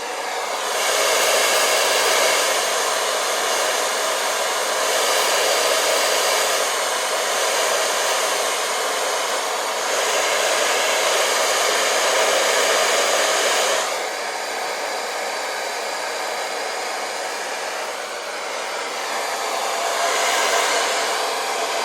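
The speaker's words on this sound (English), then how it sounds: "Then you're going to take your blow dryer" A hair dryer on warm setting blows continuously on hair with a loud, steady airy roar, its tone shifting slightly every few seconds as it moves.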